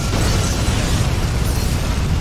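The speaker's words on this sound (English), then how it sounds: "Borg vessel destroyed." A Borg vessel blows up in the Star Trek Legacy space combat game, a loud, sustained rumbling blast with dense low-end roar that holds steady for a couple of seconds without any speech over it.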